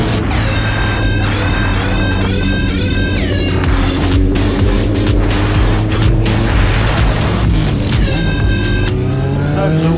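A Kawasaki Ninja ZX9R motorcycle doing a wheelie, its engine loud and close, revving hard with rising and falling pitch sweeps, constant roar throughout and no talk.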